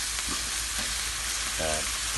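Onion, garlic, salted hilsa and red chili paste sizzle in hot oil, a dense close frying hiss with brief stirring scrapes and a light clink, no voices.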